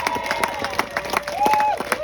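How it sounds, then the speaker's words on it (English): Crowd applause with scattered claps and some cheering at a rally against an emergency room closure, a voice rising briefly over the steady clapping. "I'd like everyone to give it an amazing round of applause."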